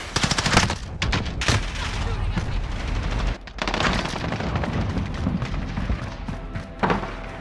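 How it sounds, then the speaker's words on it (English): Gunfire in Call of Duty: Modern Warfare, with rapid bursts of automatic fire, loud cracking shots and a dense barrage that continues almost throughout, broken by one short lull. "Yeah, we're getting shot on."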